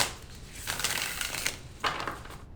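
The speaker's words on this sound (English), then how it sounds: "it's really hard for me to shuffle with nails." A tall deck of tarot cards is shuffled by hand with long nails, giving two bursts of rapid riffling and crackling close by, separated by a brief pause.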